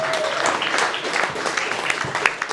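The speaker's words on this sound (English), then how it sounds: "Please give a round of applause to our other Palestinian speaker today." An audience at a talk on Palestine's future claps for an arriving speaker, a short, fairly loud burst of applause from a mid-sized crowd.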